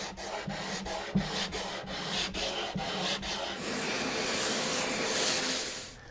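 An acoustic guitar fretboard is sanded to a radius with quick back-and-forth wooden strokes in a steady rhythm, then the strokes give way to a continuous airy rushing hiss near the end.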